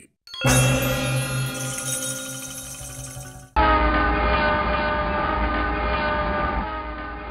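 A train at Melsi railway station sounds its horn in a loud sustained blast, then the rumble and rattle of rolling railcars carry on close by without pause.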